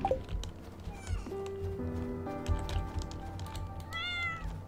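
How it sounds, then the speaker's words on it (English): A cat meows in the video game Stardew Valley, set outdoors in snowy winter, giving several clear, close, tonal calls over soft game background sounds. "And our kitty is out in the snow."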